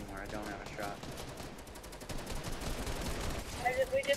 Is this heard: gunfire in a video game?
yes